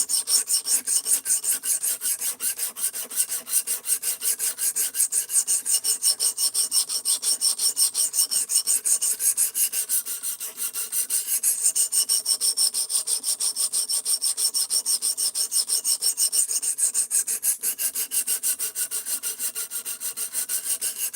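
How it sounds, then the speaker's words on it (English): A knife is drawn repeatedly across the stone of a Precision Adjust sharpener, giving a bright, raspy scraping in steady back-and-forth strokes, close and loud, with a short pause near the middle. "I have sharpened a lot of knives on this and the old Precision Adjust Elite"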